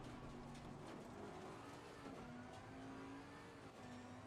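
A Bentley race car accelerates hard during 2018 practice at Mount Panorama, Bathurst, its engine a loud, close, continuous roar that climbs steadily in pitch with no talking.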